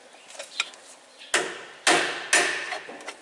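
A crusty, corroded wheel cylinder being worked loose from the brake backing plate of an older Ford truck: three sharp metallic knocks near the mic, with lighter scraping and clicking between them.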